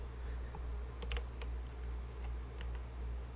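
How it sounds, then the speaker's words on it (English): A keyboard solenoid ticks with each typed keystroke, giving a few sharp, close clicks scattered irregularly over a low steady background hum, without any voices. "with every stroke that I type, we get the little solenoid driving"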